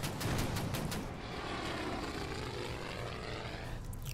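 A dive bomber in the Pacific war strategy game Order of Battle Pacific gives a steady, fairly faint propeller-engine drone that holds evenly throughout with no talking.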